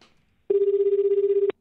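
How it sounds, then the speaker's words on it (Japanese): A telephone ringback tone sounds as a call is placed to a mother, one steady pulsing tone lasting about a second, loud and alone after a short quiet stretch. "電話をしております"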